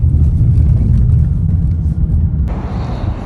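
Toyota Land Cruiser driving in traffic, a loud constant low engine and road rumble from inside the vehicle with a brief higher hiss of passing noise near the end and no talk.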